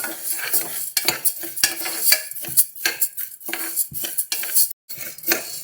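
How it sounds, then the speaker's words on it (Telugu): Toor dal dry-roasting in a pan, a spoon scraping and clinking against the metal in quick irregular strokes as the lentils rattle and hiss faintly, close with no voices. "ఈ కందిపప్పును దూరగా వేయించుకుందాం"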